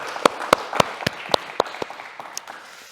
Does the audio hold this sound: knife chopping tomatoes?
no